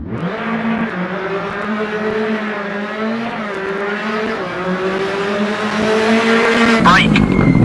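A rally car in Richard Burns Rally at full throttle, its engine droning loud and close through rising gears with brief shifts, ending in a sharp burst of noise.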